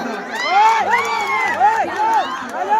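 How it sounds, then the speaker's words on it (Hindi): An audience at a stage show claps and cheers under a loud, amplified voice, with bursts of crowd noise and whoops rising and falling around sustained vocal tones. "तो जितेंद्र अहिरान मेरे भाई के लिए ताली बजा दो"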